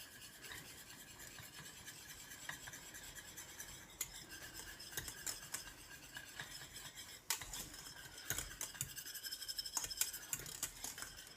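A flavour paste being stirred into a parsley sauce gives quiet, continuous scraping and rubbing with scattered sharper clicks of the utensil against the bowl, close by with no talking.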